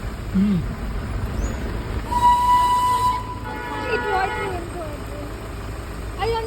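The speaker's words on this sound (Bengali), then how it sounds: "এই যে ঘুম স্টেশন, ঘুম স্টেশন।" A train at Ghum railway station in the Darjeeling hills, a rumbling engine with drawn-out whistle-like tones while people talk nearby.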